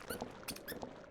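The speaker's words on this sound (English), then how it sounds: "It squeaks." Several short, faint squeaks in a modded mining game, coming in quick irregular bursts over a soft background.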